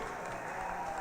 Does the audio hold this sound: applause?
yes